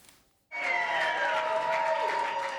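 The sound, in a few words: crowd cheering and applauding Trump in Trump Tower lobby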